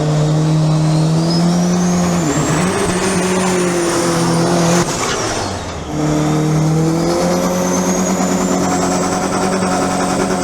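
A nitro drag racing car screams down the strip, loud, sustained engine howl with shifting pitch, a brief dip midway, then the roar resumes at full intensity.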